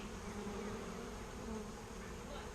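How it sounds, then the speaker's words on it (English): Dense, steady buzzing of many honeybees swarming around an open hive during an apiary inspection, continuous and close throughout with no voices. "So we got a lot of bees."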